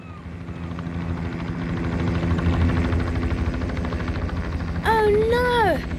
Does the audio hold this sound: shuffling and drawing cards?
no